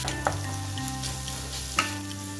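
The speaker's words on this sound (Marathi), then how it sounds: "इथे ना मी 1 टोमॅटो हा घातलेला आहे, तो पण आपल्याला छान असा परतून घ्यायचा आहे." Tomato being sautéed in onion-tomato masala in a pan for dhaba-style egg masala, a steady close sizzle with a couple of brief stirring clinks, no talking.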